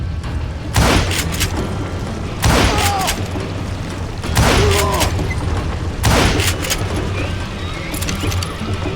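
Gunfire in the Western shooter Call of Juarez: Gunslinger: four loud, booming shot bursts spaced a couple of seconds apart, each with a sharp crack and ringing tail over a constant background rumble.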